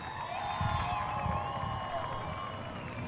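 Crowd cheering and clapping at a dirt speedway sprint car race, a steady broad roar from the stands with a public-address voice over it.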